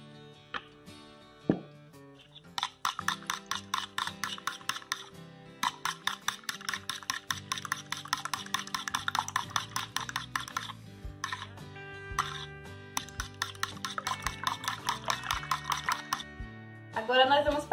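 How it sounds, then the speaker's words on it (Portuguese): Milk is beaten into an egg mixture for stuffed rabanada in a bowl, making bursts of rapid rhythmic clicking and tapping with short pauses between them. "Vamos acrescentar o leite e bater mais um pouquinho."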